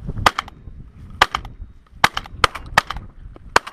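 Shotgun shots ring out while pigeon shooting over a stubble field, sounding as about seven sharp cracks in uneven bursts, some nearer and louder than others.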